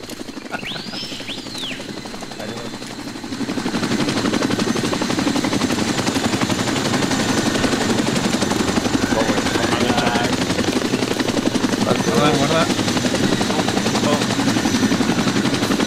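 A military helicopter in Arma 2 gameplay swells in around the third second into a loud, continuous rotor roar that holds steady to the end, with faint voices and a short whistling tone early on.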